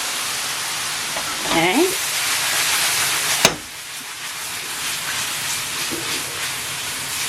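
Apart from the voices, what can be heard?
sausages sizzling as they are added to the pan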